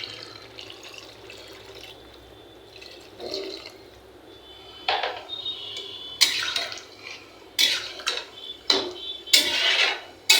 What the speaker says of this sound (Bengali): আমি এবার লাউটাতে সামান্য একটু পানি দিয়ে দেব।